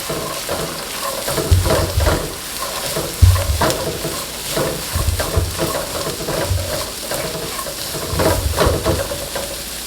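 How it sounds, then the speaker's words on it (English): Diced carrots are stirred into coconut shrimp fried rice in a pan, with a steady sizzle and repeated scraping stirs and clunks of the utensil against the pan, close and fairly loud. "Now I'm going to add in my carrots. This is diced carrots."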